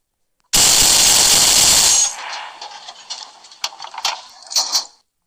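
A sudden loud burst of rapid gunfire for about a second and a half from a gun mounted on a German bunker in a Roblox WW2 tank game, followed by scattered metallic clanks and clicks trailing off.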